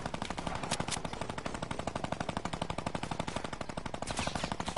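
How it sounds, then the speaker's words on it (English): A minigun in a PS4 video game fires in a sustained, rapid stream of shots, loud and continuous throughout, with no voices over it. "They got mini guns."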